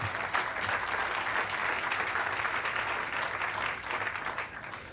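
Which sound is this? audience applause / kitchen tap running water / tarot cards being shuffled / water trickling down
audience applause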